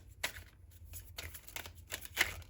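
Tarot cards are pulled and shuffled from a deck in a reading, giving several close, soft papery riffles and slides in uneven bursts with no voices.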